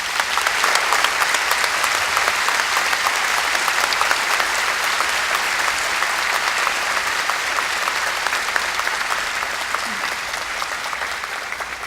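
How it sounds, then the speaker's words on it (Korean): Sustained, dense applause from a large audience in a university lecture hall, steady and loud throughout with no break and no talk over it. "이희호 여사님께 큰 박수 부탁드리겠습니다."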